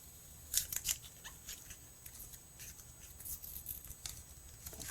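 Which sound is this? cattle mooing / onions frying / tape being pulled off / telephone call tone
tape being pulled off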